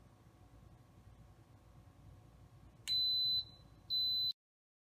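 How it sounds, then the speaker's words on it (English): An Instant Pot pressure cooker gives two loud electronic beeps, a longer tone then a shorter one, over a steady background hiss. "the Instant Pot will beep"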